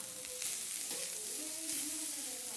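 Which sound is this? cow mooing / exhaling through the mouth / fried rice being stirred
fried rice being stirred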